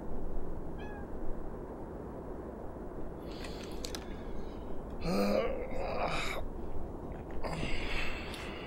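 A pet cat meows a few times at moderate distance in a quiet room, short calls spread across the stretch, with a low steady background hum beneath.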